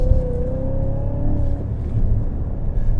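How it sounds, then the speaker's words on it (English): A 2016 Cadillac CTS-V full-size sedan driven hard around a race circuit, its engine roaring loud and close with a steady deep rumble and a rising then falling engine pitch, no talking. "Can you believe this thing is a full-size sedan? It's just dancing on the circuit."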